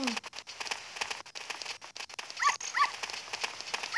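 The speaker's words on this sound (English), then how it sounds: "Some puppy was following me." A puppy in the game Zelda: Ocarina of Time gives a couple of short, faint yips amid scattered game sounds and rain-like pattering.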